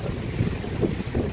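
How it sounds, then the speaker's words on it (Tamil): Strong wind and rain at Koraiyuthu near Chinna Suruli falls roar in a dense, gusty rush, with low buffeting swells surging every half second or so and no voices. "காற்றும் மழையும் கூடுதலாயிருச்சு இந்த கோரையூத்துங்கிற இடத்துல"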